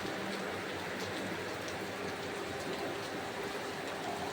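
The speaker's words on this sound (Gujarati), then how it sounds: "જો ગાઈસ કેવો વરસાદ આવે" Heavy rain falls steadily with a dense, even hiss of drops pattering on surfaces, loud and unbroken from start to finish.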